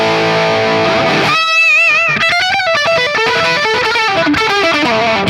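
Heavily distorted electric guitar plays loud, sustained notes and bends after a brief pause, with a thick, saturated tone and no voices.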